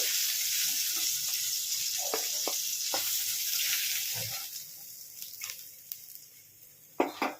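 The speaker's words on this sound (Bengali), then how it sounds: "বন্ধুরা দেখো, মাছগুলো ভাজা হয়ে গেছে।" Bata fish frying in hot oil for a Bengali recipe: a loud, steady hissing sizzle close up that gradually eases, with scattered spatters and a few utensil clinks near the end.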